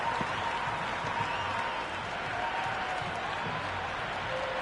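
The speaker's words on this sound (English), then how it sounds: "Crowd loved that one." A stadium crowd in the cricket video game Cricket 26 applauds and cheers a boundary four during an IPL match, a steady dense wash of clapping and crowd noise that holds at an even level throughout.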